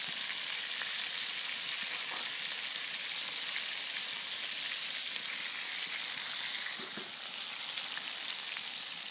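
Venison sausage sizzles steadily over a banked campfire, a continuous close frying hiss with faint crackles and no voices.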